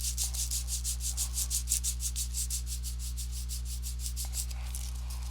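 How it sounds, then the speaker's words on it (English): Sandpaper is rubbed back and forth by hand over a workpiece, a steady series of about thirty short scratchy strokes over a constant low electrical hum, close and fairly quiet. "I'm going to sand this with this piece of sandpaper here"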